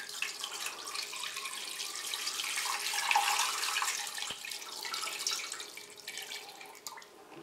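Measured water pours steadily into juniper tincture for homemade gin, a continuous close trickle and splash that swells slightly in the middle and tapers off, with no talk.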